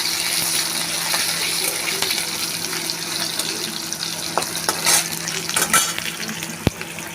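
Potato pieces frying in a pan of oil for a Bengali hilsa fish curry, a steady close sizzle running throughout with light stirring clatter and a sharp tap near the end.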